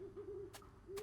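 An owl hoots in the video game Deadly Premonition 2, steady low calls with two pauses over a constant ambient background, plus two brief bright bursts of other noise.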